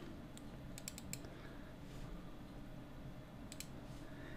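A few faint computer mouse clicks come in two small clusters over a steady quiet hiss as someone works through the cover page menus in Microsoft Word 2016.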